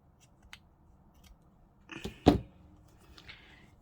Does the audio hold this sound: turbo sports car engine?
no